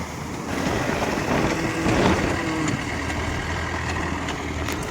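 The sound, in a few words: tractor engine running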